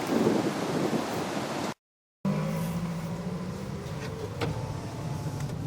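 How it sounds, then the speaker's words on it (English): A Toyota Matrix converted to electric drive travels down a road, giving a steady interior hum of tires and road noise with a faint motor whine, broken by a brief silent gap. No one speaks. "going down the road in an electric car"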